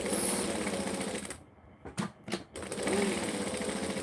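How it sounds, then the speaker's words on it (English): Sewing machine chain-sewing Santa stockings runs steadily and close, stopping briefly in the middle with a few short clicks and thumps before the continuous whir resumes. "I'm going to chain sew them"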